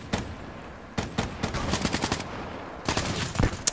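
Gunfire in Call of Duty Black Ops 3 multiplayer: sharp automatic bursts and single shots in irregular clusters, moderately loud, with faint background game noise.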